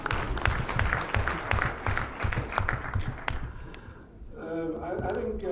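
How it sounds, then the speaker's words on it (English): An audience applauds, a thick wash of clapping that fades out after a few seconds into a quieter room where a voice begins to speak. "Let's give him one more round of applause"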